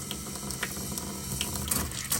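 Water draining from an RV's plumbing into its gray tank during winterization, a steady close rushing flow with faint clinks and gurgles over it.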